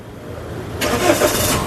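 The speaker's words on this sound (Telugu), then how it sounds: "సింగిల్ సెల్ఫ్లో కార్ స్టార్ట్ అవుతుంది" A Tata Harrier XZA Plus AMT 2020 engine starts with a push-button start, a quick crank catching into a steady idle, loud and close-up.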